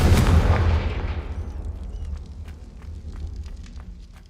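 A Confringo blasting curse in Hogwarts Legacy on PlayStation 5 goes off with a loud, heavy boom at the start, followed by a long rumbling decay and scattered crackling debris that fades over several seconds.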